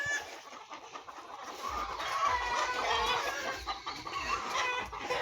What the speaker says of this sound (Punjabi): ਲੱਗ ਪਏ ਇਹ ਸਾਰੇ ਬੋਲਣ ਮੁਰਗੇ